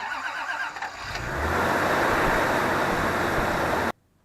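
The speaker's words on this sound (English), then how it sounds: "let's see if this engine starts on the first crank" A 1985 Toyota Celica Supra engine cranks briefly, then catches on a hard cold start and roars into a loud, steady idle close by before cutting off abruptly.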